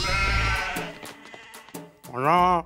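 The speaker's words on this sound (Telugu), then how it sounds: "ఆ వెనకాలే గొర్రెలు." Sheep bleat as a film sound effect in a Telugu comedy scene, several wavering calls close up, the last one long and loud.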